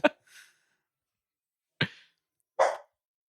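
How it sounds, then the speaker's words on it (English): A dog barks during a movie scene, giving a few short, sharp isolated barks separated by silence, the first two close together and the last two after a pause. "It's actually really hilarious timing that Stevie's barking during the"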